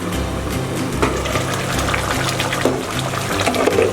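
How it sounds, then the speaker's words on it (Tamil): Rice-washed water poured into a pot of South Indian egg curry, heard as a continuous splashing, gurgling pour of liquid with a few small clinks near the end. "அரிசி களைஞ்ச தண்ணி அதை ஊற்றிக்கிறோம்."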